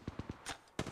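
Apex Legends Mobile gunfire: a quick burst of three rapid shots followed by two heavier, louder blasts, close and punchy within one second.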